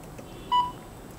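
A single clear electronic beep, short and steady, from an Endomed 682 electrotherapy unit, sounding alone over faint room background.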